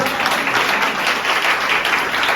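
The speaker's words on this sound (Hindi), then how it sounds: "ताली बजाइए, हालेलुया" A church congregation claps together in a steady, dense wash of hand claps, fairly loud and close, with no talk over it.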